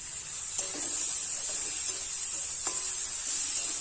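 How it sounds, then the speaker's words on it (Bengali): Karamcha pickle sizzles in a pan with a steady bright hiss, while occasional utensil scrapes and taps mark the stirring. "আরও দু থেকে তিন মিনিট নাড়াচাড়া করলে করম চা ঠিকঠাক কষাই হয়ে যাবে"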